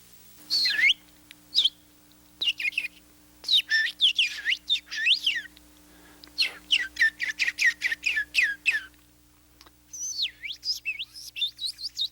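Small songbird chirping and singing in repeated bursts of bright, quick trilling notes with brief pauses between phrases, fairly close and clear over a faint steady hum, with no voices.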